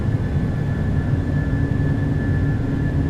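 PMDG 737-800 jet engines roar at takeoff power in Microsoft Flight Simulator, a loud steady rumble with a thin whine running through it, continuous and unbroken.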